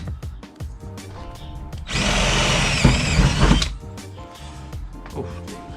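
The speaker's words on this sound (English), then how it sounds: "Bigger drill bit now." A power drill fitted with a bigger bit bores a hole during a carbon fibre spoiler install, a loud grinding burst of about two seconds standing out between quieter clatter and handling noises.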